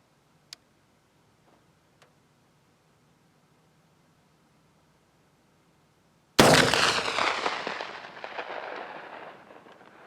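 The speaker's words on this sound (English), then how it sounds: "here we go with shot number 3 at 500 yards with a stock Thompson Center Renegade 50 cal." A single loud, booming shot from a stock Thompson Center Renegade .50 caliber black-powder muzzleloader fired outdoors at a 500-yard target, with a long rumbling tail that follows a few faint clicks and a quiet pause.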